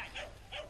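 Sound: sheepdog at herding contest

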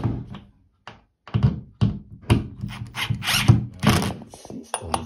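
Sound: screwing a bathroom towel rack fitting back in

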